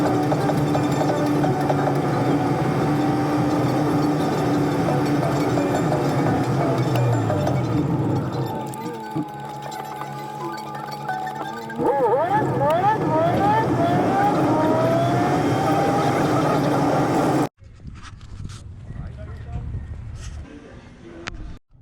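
A car drives along the road and its engine repeatedly revs up and then eases off the throttle, loud and close inside the cabin. A voice talks over it, and the sound drops off sharply near the end.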